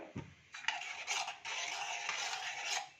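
Masala sundal ingredients are sautéed and stirred in a pan, giving soft scraping and clinking of a spoon against metal. Brief bursts build into a steady, quiet, close stir lasting a few seconds, with no voice.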